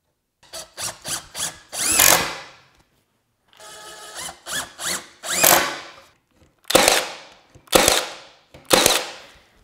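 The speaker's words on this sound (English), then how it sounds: "These are cabinet screws, GRK. And what's amazing about these things, man, is no pre-drill. They just go right in" A power drill drives GRK cabinet screws into wood window trim in a cabin, with loud whirring bursts: several quick short pulses, a pause, then longer runs and three separate sharp bursts.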